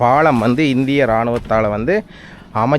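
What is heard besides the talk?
No distinct noise like a dog, phone or traffic.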